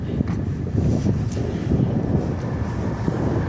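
Gusty wind buffets the microphone with low rumbling bursts and rustling noise, fairly loud and close, without any speech.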